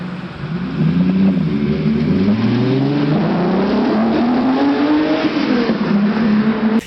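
A De Tomaso Pantera mid-engine supercar prototype revs its engine loudly and continuously, the pitch rising and falling through several sweeps, with a hint of tyre noise and no talk.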